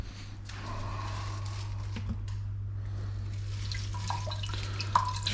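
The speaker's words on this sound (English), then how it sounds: "Just rinse all the flies off of it, all the bugs." Fish rinsed under a running kitchen tap, a steady soft rush of water with scattered drips and splashes, close by and continuous throughout, a low hum beneath it.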